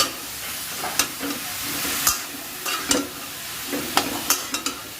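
A coconut mathi mixture is stirred and lightly fried in a pan, with steady close sizzling and repeated sharp scraping strokes of a spatula at an uneven rhythm, and no voices.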